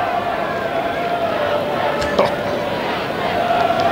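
Stadium crowd at an AFL football match between Carlton and Collingwood, a broad steady roar of thousands of spectators rising in anticipation, with a brief louder swell midway and a continuous dense wash of voices throughout.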